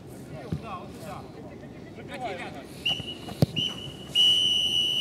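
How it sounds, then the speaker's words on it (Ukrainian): At the end of a futsal match, a referee blows a shrill whistle blast, followed by longer sustained whistles, loud over arena crowd noise and a commentator talking. "Ну и финальный свисток."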